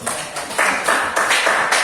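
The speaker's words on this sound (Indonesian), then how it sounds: "tepuk tangan dulu" A classroom audience at a music lesson claps hands in a short, loose burst, several sharp close claps repeating in a rough rhythm over a couple of seconds, with no talking.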